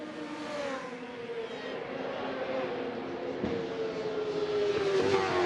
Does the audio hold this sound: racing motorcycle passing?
yes